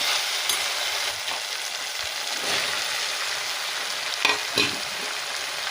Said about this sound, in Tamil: இந்த ஸ்டேஜில் வந்து நம்ம சுண்டைக்காய் சேர்த்து நல்லா வதக்கிக்கலாம்